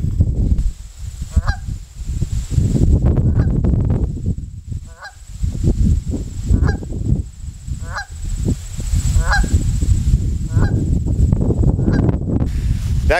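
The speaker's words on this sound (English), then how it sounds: "That goose is wounded, he's dragging his left wing." A wounded goose honks repeatedly in weedy cover by the water, loud and close, with calls coming every second or so over a rough, rustling background.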